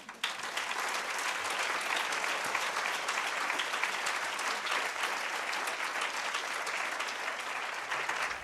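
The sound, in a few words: warm applause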